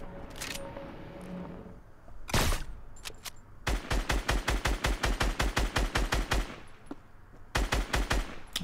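Automatic gunfire in the Fortnite Mobile video game: a few single shots, then a long rapid burst of evenly spaced loud cracks, a pause, and another short burst, close and prominent.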